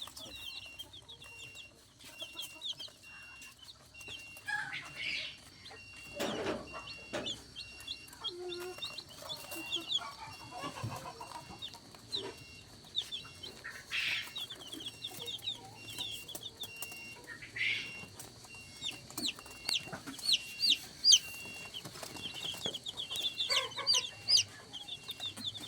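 Hens and fluffy young chicks cluck and peep close by in a farmyard, with soft repeated calls over a constant background murmur and occasional faint voices.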